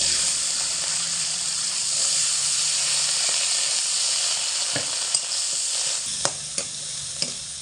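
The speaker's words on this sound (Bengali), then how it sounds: "তো এবার এই তেলের মধ্যে মটরশুঁটিগুলোকে দিয়ে ভেজে নেব।" Green peas fry in a little oil in a wok, giving a steady, close sizzle throughout, with a few sharp stirring clicks toward the end.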